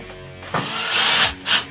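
A power driver runs in a short burst and then a longer whir as screws are tightened into a Mainstays open shelf nightstand during assembly, loud and close, with no talking.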